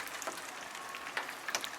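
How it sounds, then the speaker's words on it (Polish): Winter rain falling outdoors, a faint, steady hiss of drops with a few slightly sharper patters near the end, with no voices. "deszcz pada"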